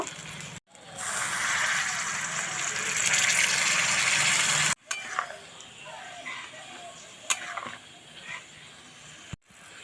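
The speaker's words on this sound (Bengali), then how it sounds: "চিকেনটা ভালো করে কষিয়ে নিয়েছি এখন জল দিয়ে দেব" Water poured into a pan of chicken and potato curry gives a loud, steady gushing pour with sizzling for several seconds, then it cuts off into quieter clattering and stirring.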